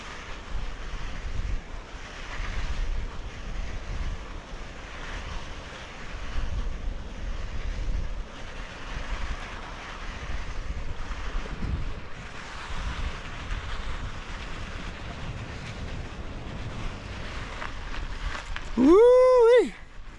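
Surf rolls steadily onto a beach in southern Baja, a continuous wash of breaking waves mixed with gusts of wind buffeting the microphone, with a brief louder whoosh near the end.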